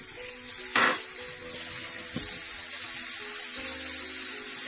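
Butter heating in a pot for frying nuts: a sudden sizzle bursts in early, then a soft steady frying hiss continues with a faint clink, no talking.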